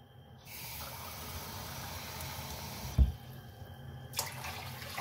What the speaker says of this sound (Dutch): En dan doe ik er 2 water bij.